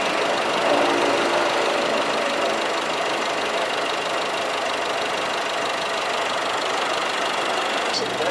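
A car engine idles during an engine decarbonization treatment, a steady loud hum with a slight knocking texture that holds unchanged throughout, with no talking.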